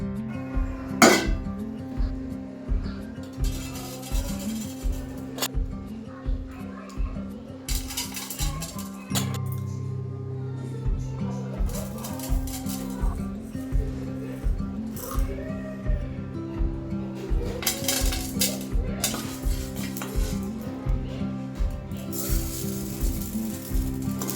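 Fenugreek, black pepper, cumin, coriander and sesame seeds dry-roast in a pan, with a steady rhythmic scraping and clinking of a spatula against metal and a faint sizzle throughout.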